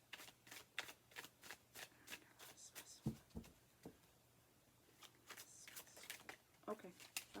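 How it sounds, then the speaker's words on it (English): A deck of tarot cards is shuffled, giving a run of quick, soft riffling snaps and flutters in an irregular rhythm. The sound is close and fairly quiet, and a voice talks faintly over it. "So let me pull some clarifying cards."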